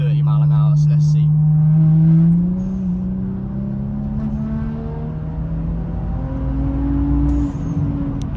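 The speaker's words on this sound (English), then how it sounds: "So this is a 3rd gear. We're going about 30 mile an hour, so let's see." A tuned BMW M235i pulls hard in third gear from about 30 mph, its engine note rising loudly from the cabin, dipping briefly, then climbing steadily again.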